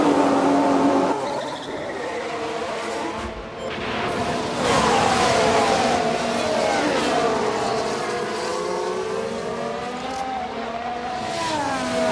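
Engine note of a Formula One car spinning out in F1 Manager 2022, a 1991/1998 Tyrrell race, with tyres skidding as the pitch sweeps and wavers; loud, continuous race-car roar and squeal throughout, no talk.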